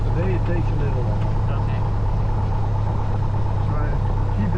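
A small airplane's engine runs steadily on the ground with the brakes held and the throttle increasing, a loud continuous droning hum with a voice talking over it throughout.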